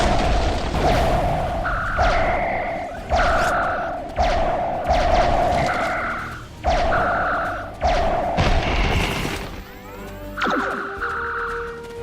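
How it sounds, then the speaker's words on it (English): Mortar shells bursting in the Star Trek Online game, roughly eight heavy booms at steady intervals, each followed by a ringing tonal tail and fading rumble, loud and close, with a sweeping whine near the end. "Mortar fire!"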